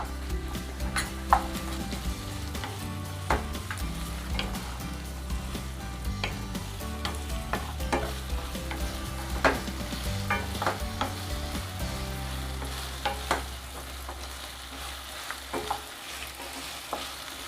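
Ginger-garlic paste sizzles and fries in a pan while being stirred, with steady close frying hiss and repeated scraping clicks of the spoon against the pan.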